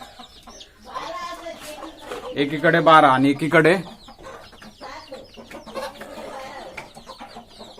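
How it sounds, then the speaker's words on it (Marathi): A village rooster crows loudly in the middle, with hens clucking around it and people talking nearby. "हा मस्त गावठी कोंबडा आहे"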